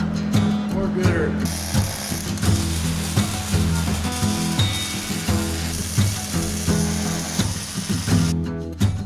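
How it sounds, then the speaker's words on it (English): An arc welder on a 230 V plug welds a Jeep Cherokee XJ front bumper, producing a loud, continuous sizzling crackle with pops and buzzing hum that pulses unevenly for several seconds. "I think the welder needed a little bit more horsepower, so I'm going to switch from the 115 to the 230 plug."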